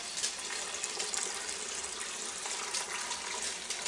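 Dark homemade tobacco liquid strained from a pot into a container, pouring as a steady, close splashing gush of water with no pauses and no talking.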